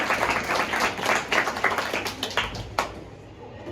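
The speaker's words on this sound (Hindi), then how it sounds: "भाई इसके लिए तो ताली हो जाए" A school audience of students claps together in a steady, dense patter of many hands, loud and continuous for several seconds, with a voice briefly audible within it.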